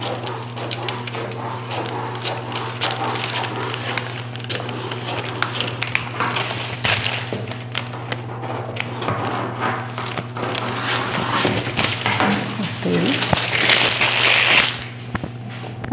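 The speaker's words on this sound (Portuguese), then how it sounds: "vou cortar." Scissors cutting through shirt fabric on a table, a close, continuous rustling crunch of blades slicing cloth with small handling knocks, no talking.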